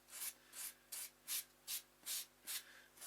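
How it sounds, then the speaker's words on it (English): Sanding blocks rubbed along the cut edges of craft foam for a Gondor beacon model make eight steady, evenly spaced hissing strokes, close and fairly quiet, with no talking. "what we're going to do with these sand blocks is we're just going to take the edge off."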